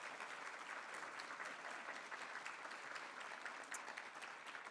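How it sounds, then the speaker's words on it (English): Steady round of applause from a modest crowd at a community volunteer recognition event, dense clapping sustained throughout, heard from a slight distance and fairly soft. "Let's give these ladies a round of applause."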